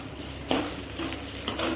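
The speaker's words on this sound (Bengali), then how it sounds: "তিলটা একটু ভাজা করে নিব" Sesame seeds fry in oil with peanuts and curry leaves, giving a close, continuous sizzle with a few sharp spatter pops and light utensil knocks.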